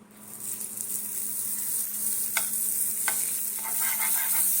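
Onions fry in butter in a pan with a steady, bright sizzle, broken by a few quick scrapes of stirring and no talking.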